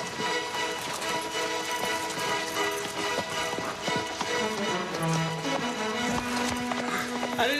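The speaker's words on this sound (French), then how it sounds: "Mon cheval!" Horse hooves galloping in a French comedy film, a rapid drumming of hoofbeats under a busy orchestral score, fairly loud and continuous.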